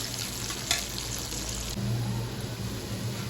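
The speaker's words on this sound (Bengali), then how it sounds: "পেঁয়াজগুলো একটু ভেজে নিই।" Onions fry in a pan for a home-style fish dish, a steady broadband sizzle with a brief sharp clatter near the start and low stirring scrapes later, close and fairly loud with no talking.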